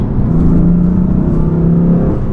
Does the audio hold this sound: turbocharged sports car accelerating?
yes